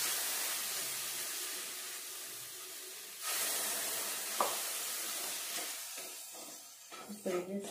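Milk is splashed into sugar melting in a pan over a medium flame. A quiet sizzle hisses up suddenly partway through and keeps going, with faint stirring and scraping near the end.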